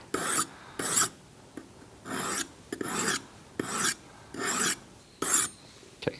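A leather head knife sharpened on an abrasive grit, eight rhythmic rasping strokes of steel against the stone, each about half a second, close and alone.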